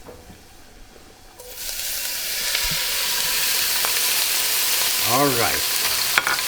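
Canned clams hit a hot pan with garlic, and a loud, steady sizzle bursts in after a quiet start and holds close, with a brief clatter and a short spoken remark near the beginning.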